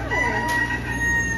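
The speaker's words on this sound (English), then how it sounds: "Chickens can" Chickens cluck and a rooster crows over a steady outdoor background hum, close and continuous through the short moment.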